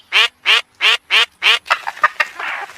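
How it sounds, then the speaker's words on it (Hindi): Five loud, evenly spaced duck quacks ring out close by, followed by softer, quicker chattering calls. "उस जाल में एक सुनहरे रंग की बतख फड़फड़ा रही है।"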